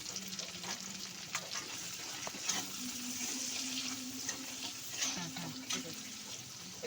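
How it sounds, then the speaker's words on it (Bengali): A medium chopped onion sizzles in oil in a pan for fried rice, a soft, even crackle kept up for several seconds with faint stirring. "একটু ভাজা ভাজা করে নেব পেঁয়াজটা।"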